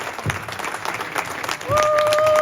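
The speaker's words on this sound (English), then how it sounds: "Ladies and gentlemen, another round of applause for the X-Wing pilot." A convention panel audience gives a brief round of applause that rises to a dense clatter, with a steady high tone cutting in near the end, and no voices clearly heard.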